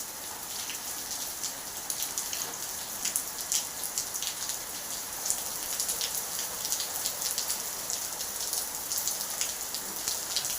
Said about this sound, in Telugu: నెల్లూరులో వర్షం దంచేస్తుందండి